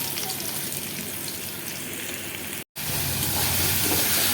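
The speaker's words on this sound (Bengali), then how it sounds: "চলো বন্ধুরা আগে আলুগুলোকে ভালো করে ভেজে নিই" Potato pieces frying in oil in a pan give a steady, loud sizzle and hiss close by, broken by a brief gap, with no speech.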